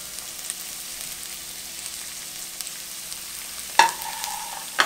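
Onions fry in rice bran oil with a soft, continuous sizzle, then a sharp metallic clank and brief scrape of a utensil near the end, no voices.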